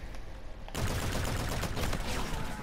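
Sustained rapid automatic fire from the Volk assault rifle in Infinite Warfare team deathmatch, a dense unbroken burst starting abruptly after a brief quiet moment and staying loud to the end.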